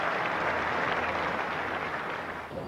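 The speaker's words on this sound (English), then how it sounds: "The crowd give him a good applause." A cricket crowd at a Test match gives steady, dense applause for a batsman dismissed on 96, a broad wash of clapping from a large stadium audience that fades slightly at the end.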